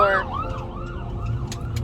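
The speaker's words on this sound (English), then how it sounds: "sorry, ambulance in the back." An ambulance siren wails in rising and falling sweeps, loud at first and then steadier in the background, with traffic rumbling underneath.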